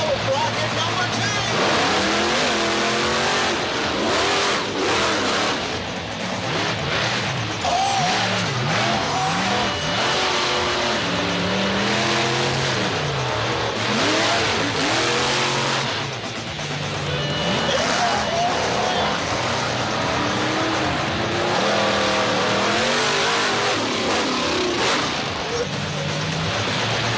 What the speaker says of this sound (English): Then came Chicago-style racing in a matchup against Bigfoot.